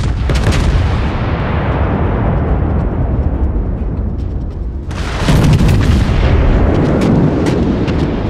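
A 406mm naval gun fires with a heavy, sustained roaring blast, rumbling loudly for several seconds before a second powerful burst of sound follows, all without any talking.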